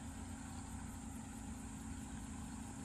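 A car engine idles steadily during clutch control on an uphill slope, a constant low hum with faint vibration, quiet and unbroken, with no voices.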